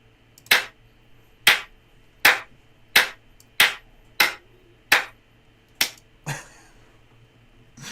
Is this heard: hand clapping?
yes